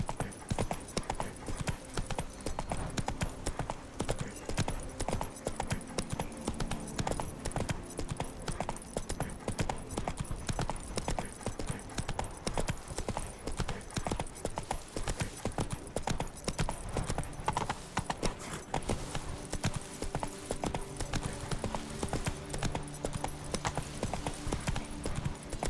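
Roach, Geralt's horse in The Witcher 3, clip-clops steadily at a brisk gait for the whole stretch, the hoofbeats loud and close over a busy game soundscape.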